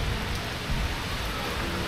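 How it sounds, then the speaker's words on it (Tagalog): Heavy rain pours down in a dense, constant roar with no breaks, loud and close. "pero ang lakas ng ulan mga loves"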